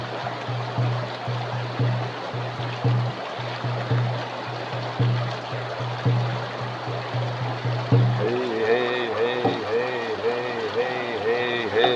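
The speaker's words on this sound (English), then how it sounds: "More like rapids than waterfalls." River rapids rush in a steady, loud broadband roar close by, while a low rhythmic thumping pulses beneath and tonal singing-like voices join in the second half.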